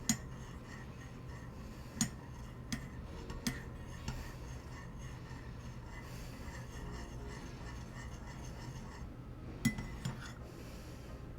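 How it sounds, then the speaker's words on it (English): A spoon stirs chai tea sweetened with honey in a cup, giving faint, sparse clinks against the rim over a soft, steady room hush, with no talking. "Mild ASMR of me stirring a cup."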